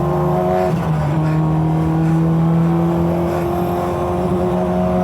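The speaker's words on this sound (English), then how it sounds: "This is Harvey's very car I'm in" An ex-works Ford Sierra RS500 Cosworth BTCC race car on track, its engine holding a loud steady drone from inside the cabin, with a brief shift in pitch early on.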